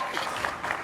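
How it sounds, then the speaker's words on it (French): A short burst of audience applause at a live French debrief show, a brief wash of clapping heard at moderate level. "Applaudissez pour Kevin, l'hypocrite"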